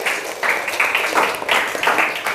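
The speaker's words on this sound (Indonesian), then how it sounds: "Tepuk tangan dulu dong" A crowd of teachers at the Jambore GTK Hebat 2024 event applauds with a continuous, moderately loud rush of mixed hand claps that swells and ebbs in waves, with no voices clearly heard.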